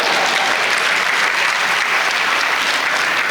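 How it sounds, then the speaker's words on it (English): Thick, continuous applause from a large audience at a medical graduation and induction ceremony, loud and even with no talking over it. "Please applaud these other faculties."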